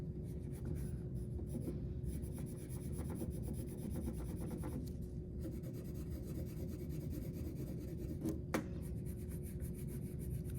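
A colored pencil shades on paper in a continuous close, dry scratching and rubbing, with strokes curving back and forth at an even pace and no talk.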